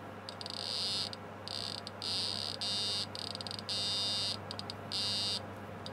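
An LC test oscillator picked up by a homemade RF detector comes through as a steady high-pitched electronic tone, switching on and off in several bursts over a constant low hum.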